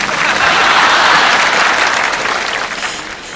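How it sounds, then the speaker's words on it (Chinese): An audience applauds at a concert, a dense wash of many hands clapping together, loud and sustained before gradually thinning toward the end. "我们再次用掌声来欢迎一下"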